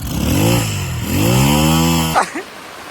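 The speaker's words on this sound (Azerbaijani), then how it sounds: "Buna bax, motosikletin səsi atıb başına." Motorcycle engine droning close by in rising and falling revs, a steady rumble for about two seconds before it cuts, with a brief voice-like sound afterward, in a rainy camping setting.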